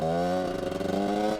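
A two-stroke project motorcycle engine idles with a steady buzzing drone, close and fairly loud, holding even for a moment before easing off at the end.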